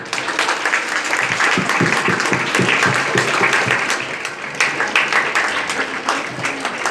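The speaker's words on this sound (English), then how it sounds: "I request all my friends to welcome our sir, DSP sir, by clapping." School audience at a National Mathematics Day event clapping to welcome a guest, loud sustained applause from many hands, dense and continuous throughout.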